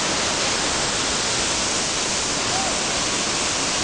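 Umphang waterfall in Thailand, heard from its highest level as a loud, constant broadband roar of falling water that fills the whole span without a break, with no clear voices.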